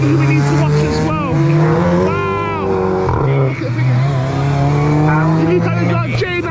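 Race cars heading out on track during time attack qualifying at Cadwell Park, including a Citroën Saxo and a Nissan S15: loud, constant engine drone with rising and falling revs, under continuous commentary.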